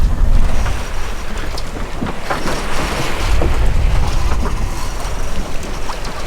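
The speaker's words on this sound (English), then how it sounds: "except for the waves here, which are pretty unsteady" Unsteady sea waves wash around a sailboat on an open-water passage from Portugal to the Canaries, a continuous broadband rush and slosh with heavier surges, loud and close with no speech.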